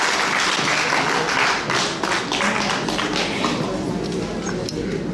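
Audience applause at a live Haitian quiz challenge show, a dense, steady wash of many hands clapping that carries through the whole stretch, with possible crowd noise mixed in.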